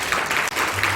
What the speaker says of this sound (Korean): 두 분 목사님께 박수 부탁드립니다.